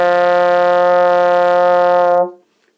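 A trombone holds a single steady F with the slide all the way in at first position, a clear sustained tone of a little over two seconds that stops cleanly into silence.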